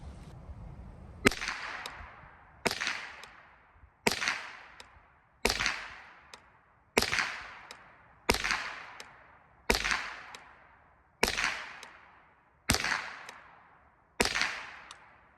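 Eleven sharp .22 rifle shots from an RIA TM-22 firing Aguila ammunition, spaced evenly about every 1.4 seconds, each a loud crack with a short ringing decay, recorded outdoors with no talking.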